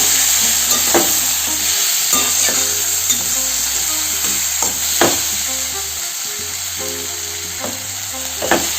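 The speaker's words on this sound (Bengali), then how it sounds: "তো দেখো এরমভাবে ভাজা ভাজা করে নিতে হবে" Masala frying and being stirred in a pan for masala fish, with a steady sizzle and repeated spatula scrapes and knocks at a regular pace, close and fairly loud.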